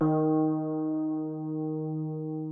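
Low Rhodes electric piano patch from Omnisphere with a strong 500 Hz EQ boost, a single sustained low chord ringing out and slowly decaying, alone and steady.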